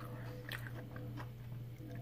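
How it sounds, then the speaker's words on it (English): Someone bites into and chews crunchy fried onion rings, with several crisp crunches and soft chewing noises close to the mic over a steady low hum. "There's that big old crunch."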